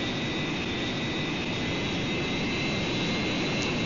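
A jet aircraft engine roars steadily at full power during takeoff, a loud, dense, continuous rush with a high whine riding on top and no breaks.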